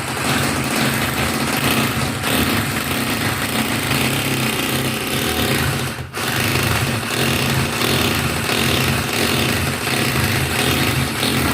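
An electric drill bores steadily into a bedroom wall, an envelope taped below to catch dust; a dense, loud, continuous grinding roar with one brief dip midway, no talk.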